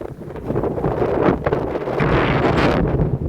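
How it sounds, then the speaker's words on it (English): Strong wind roars across open water beside a small fishing boat, buffeting the microphone in a steady, loud rush with gusty swells and no voices. "It's windy out here."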